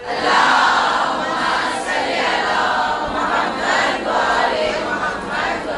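A gathering at a religious lecture on Imam e Zamana answers with a loud collective chant of salawat and Nara-e-Haideri, many voices rising and swelling together in steady waves throughout.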